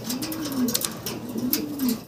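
Two fancy pigeons coo close by in low, rolling, repeated phrases that rise and fall in pitch, with faint background chatter and clicks around them.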